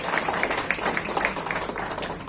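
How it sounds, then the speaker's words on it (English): Audience applause at a port authority event, steady rhythmic clapping from a moderate crowd indoors, continuous and fairly loud for a couple of seconds. "A huge round of applause, everybody."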